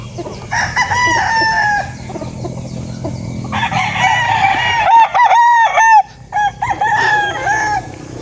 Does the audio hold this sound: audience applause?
no